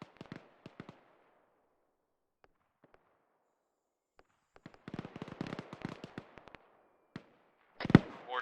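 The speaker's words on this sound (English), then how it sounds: "Mortars." Mortar explosions in the video game Arma 3 come as scattered sharp blasts, a few early and then a dense cluster of bangs and crackles, ending in one heavy boom.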